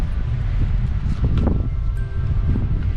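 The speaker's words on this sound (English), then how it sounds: "It's pretty windy out here today." Gusty wind on an Oregon coast beach roars and buffets the microphone in uneven surges, a constant low rumble with a faint wash of surf beneath.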